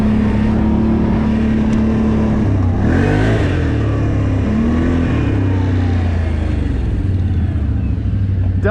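An ATV, a Can-Am Outlander 570 or Kawasaki Brute Force 750, revs hard while spinning donuts, its engine note rising and falling in loud sweeping swells over a steady droning rumble, close by and continuous.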